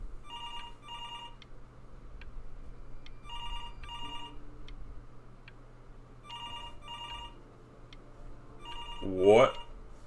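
A phone in the video game Before Your Eyes rings in repeated double bursts four times over a soft background hum, and a brief voice cuts in near the end.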